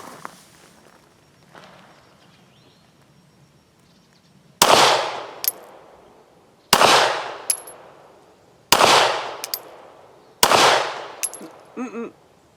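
Four sharp 9mm pistol shots fired slowly with MagTech factory ammunition, evenly spaced about two seconds apart, each loud crack ringing out and decaying, after a quiet stretch of faint handling noise.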